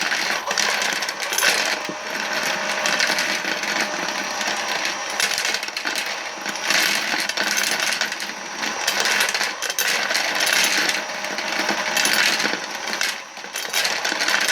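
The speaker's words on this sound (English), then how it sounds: "It makes it all the way to the tube and goes right up to the right into the bullet feeder." A Hornady bullet feeder on a Lock-N-Load AP reloading press rattles and clinks without pause as bullets tumble and drop into the feed tube, a dense, close metallic chatter with no talking.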